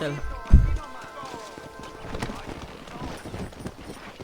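Horse hooves clip-clop at a steady walking pace in Red Dead Redemption, mixed with ambient game sounds and voices talking over them.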